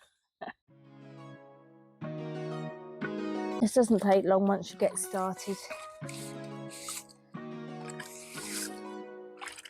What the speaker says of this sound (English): I just keep my sponges from the kitchen, and then I've got a bucket of water to rinse